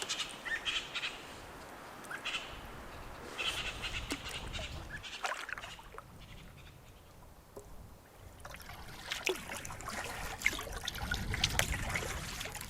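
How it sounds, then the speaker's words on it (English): A creek trickles and splashes steadily over rocks nearby during a late-fall wilderness canoe trip, with wind gusts and scattered bird chirps in the background. "Checking out a creek"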